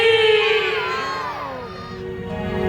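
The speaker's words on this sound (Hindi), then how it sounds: "जितनी भारी भीड़ में आप लोग बैठे हैं उतनी तेज आवाज आनी चाहिए" At an outdoor Buddhist public awareness gathering, a large crowd shouts a slogan response together, loud and sustained with overlapping voices and echoing tones.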